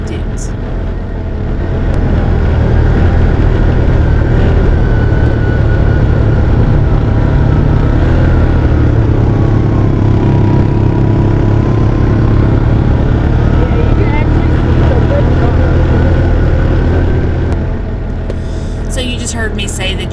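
Off-road vehicles tearing across the sand at Dumont Dunes, a loud steady engine roar and rumble sustained throughout, close by, with wind buffeting and a brief higher rattle near the end.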